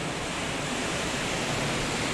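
Ocean waves at high tide on Tahara Long Beach, Japan, a steady, loud, unbroken roar of surf with no pauses and no voices.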